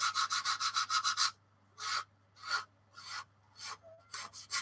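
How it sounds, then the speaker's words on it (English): Rasping sanding strokes on a plastic model aircraft fuselage seam with a flexible sanding frame, a quick run of rapid back-and-forth scrapes followed by slower, separate strokes with short pauses between them. "it's a flexified sanding frame,"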